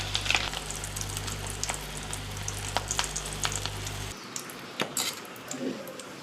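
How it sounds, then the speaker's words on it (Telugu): Fish roe sizzling and crackling steadily in a hot frying pan, with a constant low hum for the first four seconds, then quieter sizzle with scattered pops. "మంచిగా చిటచిటలాడుతున్నాయి చూడండి"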